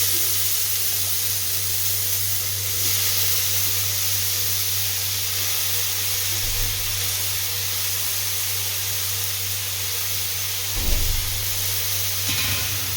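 Tomato bajji being made in the Kongu style, with brinjal and potato dropped into a pan of hot oil, giving a steady close sizzle and hiss that runs throughout with a few brief louder bursts.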